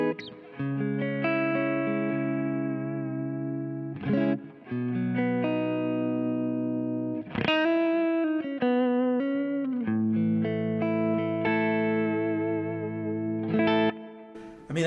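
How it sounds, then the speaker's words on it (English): A Suhr JM Pro electric guitar on its neck pickup plays clean through a blackface-style amp with hall reverb from a Big Sky pedal, a series of ringing chords and single notes that sustain and blur into a lush tail. "it's going to be clean at first, and then a Big Sky giving us a little bit of hall reverb"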